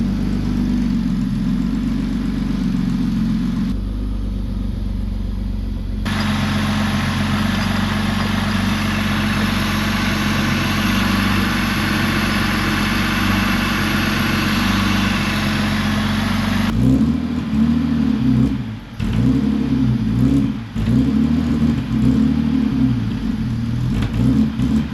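A Mercedes SL Pagoda, left sitting for 40 years, runs steadily through a big muffler underneath, giving a smooth mid-pitched idle hum with a shift partway through and uneven sputtering and dips near the end.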